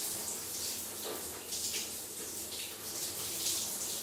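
A cold shower runs steadily for a few seconds, a broad hiss of falling water heard alone at moderate loudness.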